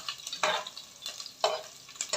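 Onions being stirred in hot oil for chicken adobo in a home kitchen, with intermittent bursts of sizzling and scraping as the pan is worked.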